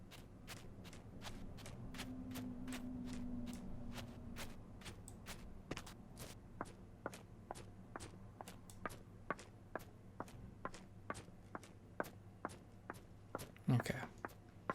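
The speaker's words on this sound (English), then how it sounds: "get our footsteps back on, and just set them to loop for now" Looped footstep Foley in an FMOD game audio project, a steady series of soft, evenly spaced steps over a low hum, fairly quiet and close, with a louder knock near the end.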